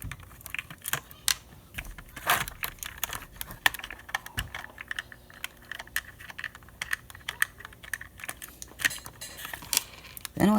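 Small screws are backed out of the weight cover of a model SD40-2 diesel locomotive, giving a run of light, close metallic clicks and ticks, some sharp and some soft, with small handling rattles between them.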